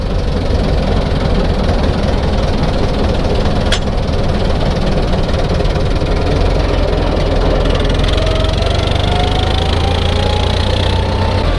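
A heavy Hanomag R460 tractor engine idles with a constant low, knocking rumble, loud and close, steady throughout with a faint rising whine near the end.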